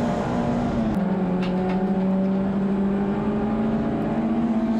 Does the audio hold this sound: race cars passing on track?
yes